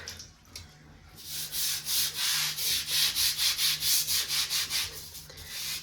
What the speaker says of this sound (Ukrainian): Зараз ще відмиваю шви пастою.